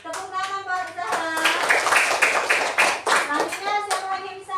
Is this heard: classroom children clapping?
yes